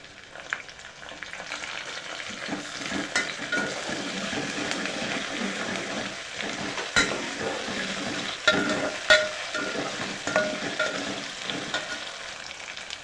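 Mustard seeds, ginger garlic paste and curry leaves fry in a pan for a mushroom tomato curry, giving a steady close sizzle with stirring scrapes and occasional sharp pops.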